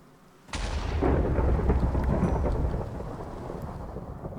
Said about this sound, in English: We killed him with lightning.